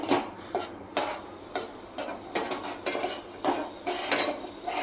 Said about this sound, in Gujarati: હવે આપણે જે આ મસાલો બનાવેલો છે એ નાખીશું અને સરસ મિક્સ કરી દઈશું